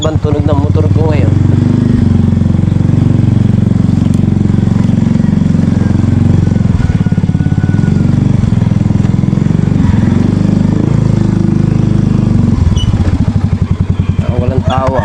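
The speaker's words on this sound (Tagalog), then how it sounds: "Parang ibang tunog ng motor ko ngayon." A motorcycle engine runs loud and close, a steady rough idle with a clattering rumble, and brief voices heard at the start and end.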